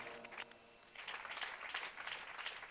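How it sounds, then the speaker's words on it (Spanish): A church congregation claps in a soft, scattered burst that swells after a short pause, fairly faint and distant, during a live sermon in a village. "Hay aplausos a la palabra en esta hora."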